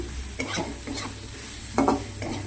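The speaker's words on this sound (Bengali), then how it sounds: "কাস্তুরি মেথিটা তেলের মধ্যে দিয়েছি ফোড়ন" Kasuri methi and spices frying in hot oil for an egg tarka, giving a steady close sizzle broken by a few bursts of stirring and scraping against the pan, with no voices.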